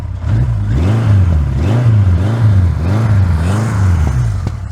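A steady, throaty 1978 Kawasaki 1000 A2 motorcycle engine idles close by, its low rumble pulsing in a regular rhythm throughout with no talking.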